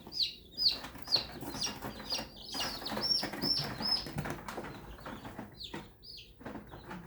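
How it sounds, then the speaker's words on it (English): Many small chicks chirp and peep rapidly and continuously, high and close, with faint rustling among them. "when we get them together, they'll stop chirping so much"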